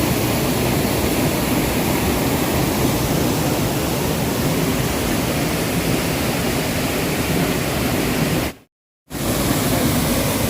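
Loud, steady roar of water falling close by onto a stone shrine at Bhimashankar, continuous and broadband, with a brief sharp dropout near the end.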